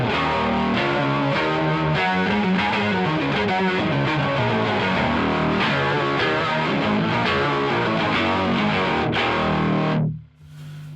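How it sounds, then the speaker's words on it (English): An electric guitar played through a BOSS MD-500 modulation pedal, distorted on one side only, rings out in loud, dense, continuous chords with a swirling, warped texture, then cuts off sharply near the end. "if I put distortion on one side only, you should get some cool, weird effects"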